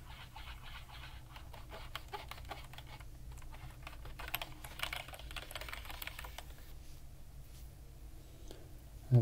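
Quiet, close-up typing on an old Mac keyboard: soft, irregular key clicks patter continuously, with a few slightly louder taps and no talking.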